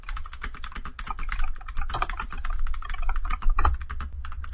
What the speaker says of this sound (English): Much typing.